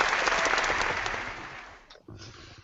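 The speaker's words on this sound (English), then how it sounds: "where's the now- applause button? There it is." Recorded applause sound effect triggered from a soundboard button during a game show segment, a dense wash of crowd clapping that fades out after about two seconds before a brief resumption.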